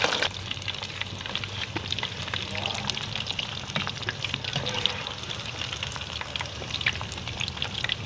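Boiled potatoes fry in a pan toward a light brown, giving a steady, dense sizzle and bubbling crackle at close range, level and unbroken throughout, with no one talking.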